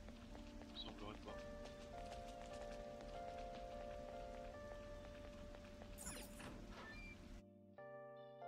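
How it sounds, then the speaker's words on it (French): Steady rain patters on a surface beneath soft music with sustained tones, ending in a brief change to brighter synth notes, in the video game Persona 5. "Ouais, il pleut, on va étudier."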